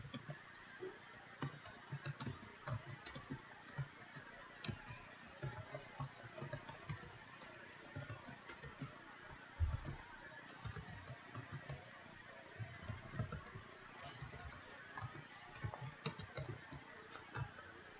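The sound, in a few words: typing HTML header tags on a computer keyboard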